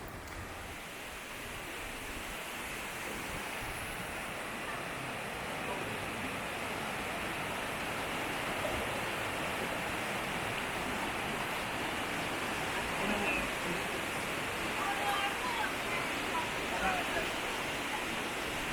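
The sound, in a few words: waterfall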